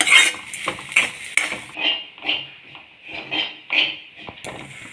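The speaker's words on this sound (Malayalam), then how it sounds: "അപ്പോൾ ഇതൊന്ന് വറുത്താവട്ടെ." A spoon scrapes steadily around a pan in a regular stirring rhythm as coconut roasts, close and clear, with no talking.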